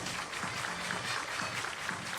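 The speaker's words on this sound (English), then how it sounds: "Everybody clap your hands." A crowd at a college softball game claps in a steady, even wash of applause, moderately distant and continuous across the stands.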